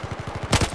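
Gunfire in Battlefield 4: a rapid automatic burst of evenly spaced shots, with a louder, brighter crack of nearby fire toward the end of the short stretch.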